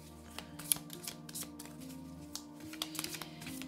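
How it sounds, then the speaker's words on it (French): Oracle cards being shuffled by hand, a few quick riffling and sliding flicks over a short stretch, close and fairly quiet, with a faint tonal hum beneath. "Je vais mélanger plutôt comme ceci."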